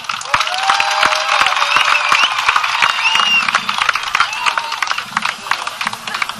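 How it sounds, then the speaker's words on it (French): Audience at a festival closing night giving loud applause with cheering and whistles, a dense, close roar of clapping that holds steady before thinning slightly. "On va lui dire bonsoir avec un tonnerre d'applaudissements"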